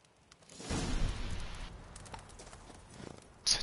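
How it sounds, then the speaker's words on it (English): Roach the horse's hooves clop in The Witcher 3 video game, a soft irregular run of hoofbeats that rises and fades over a few seconds, quiet and somewhat distant, with a louder thump at the end. "Such a useless horse."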